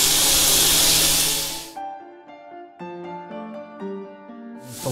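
Chicken pieces drop into a hot oiled pan for Japanese oyakodon. A loud, bright sizzling hiss fills the first couple of seconds, then melodic music tones take over before the sizzle surges back at the very end.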